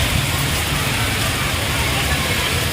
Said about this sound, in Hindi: शदीद तूफ़ानी बारिश हो रही है